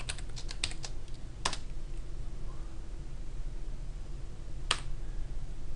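Keys on a computer keyboard clatter in a quick cluster of clicks, followed by a lone keystroke and another a few seconds later, close and clear over a quiet room hum.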